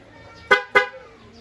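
A motorcycle with a fitted dual horn and stock horn sounds two short, loud honks in quick succession, spaced about a quarter second apart, over a low background hum.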